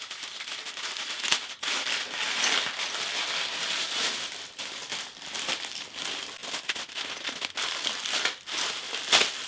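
A heavily taped Chanel handbag package is torn open and unwrapped, producing continuous close crinkling, crumpling and ripping of paper and tape with sharp crackling bursts throughout and no talking.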